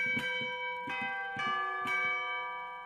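Sampled church bells, a synthesized peal standing in for real tower bells, strike four times in a steady rhythm with long ringing overtones, loud and close with no voices.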